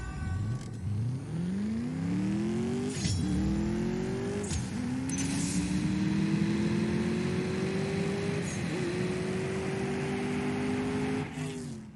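Mercedes-AMG S 63 Coupe engine in the CSR2 racing game revving hard through repeated gear shifts, a loud continuous rising whine broken by brief dips at each upshift, no talk.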